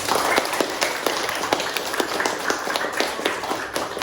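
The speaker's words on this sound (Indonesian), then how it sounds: "Beri tepuk tangan dulu untuk kita" A class of schoolchildren clapping together in a classroom, a dense, steady patter of many hands with faint voices underneath.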